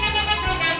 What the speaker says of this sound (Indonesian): Ini klaksonnya Johnny Walker ini.